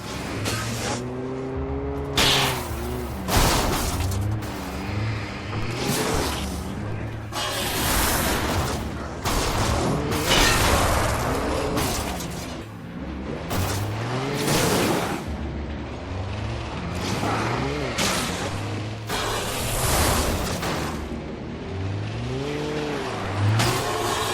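Alan Wake on Xbox 360: a car in-game roars across a large open area of exploding barrels, its engine revving loudly and continuously while heavy booms and crashes burst repeatedly through the stretch, with no talking.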